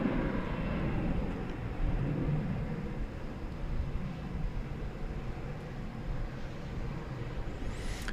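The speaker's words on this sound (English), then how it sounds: "There's the Cathay Pacific going to Hong Kong." A Cathay Pacific airliner bound for Hong Kong at DFW International Airport produces a steady, distant jet roar, a broad low rumble that holds evenly throughout without clear peaks.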